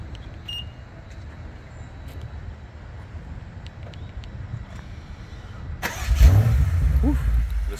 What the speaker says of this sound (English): Let me see if I can get you to hear the sound of this car.